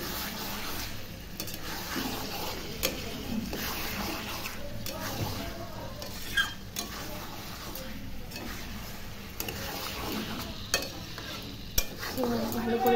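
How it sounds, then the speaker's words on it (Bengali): Mutton and potato pieces are stir-fried in a pan, giving a continuous close sizzle and sputter with frequent spatula scrapes and knocks against the metal. "তো ভালো করে এটাকে কষিয়ে নেব মাটনটাকে।"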